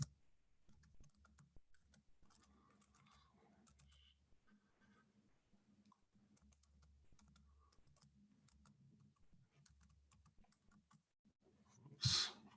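Keyboard typing during a talk on yoga therapy, soft, scattered key clicks at low level throughout, ending with a louder burst near the end.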